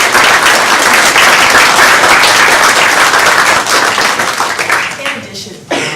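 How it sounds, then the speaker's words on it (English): Loud, dense applause from an audience thanking panel organizers and a moderator at a discussion event, close and sustained before tapering and briefly dropping off near the end. "Let's give them a round of applause"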